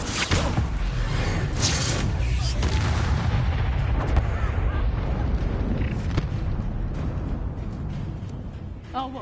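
The Incendio fire spell in the video game Hogwarts Legacy lands during a wizard duel as loud booming, roaring blasts that crowd the start and fade toward the end, with voices shouting over the fight.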